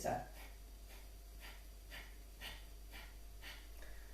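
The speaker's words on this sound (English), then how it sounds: "The next one's Kapalabhati." Kapalabhati yogic breathing: a rhythmic series of about eight short, forceful nasal out-breaths, evenly spaced roughly every half second, soft and close with quiet pauses between.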